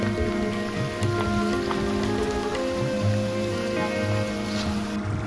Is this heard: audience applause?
no